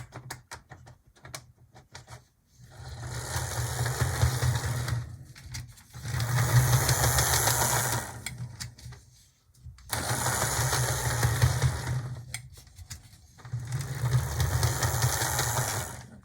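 An Atlas model diesel locomotive with a cracked gear runs on track in repeated bursts of several seconds each, a loud, close mechanical whirr and grinding buzz separated by brief pauses.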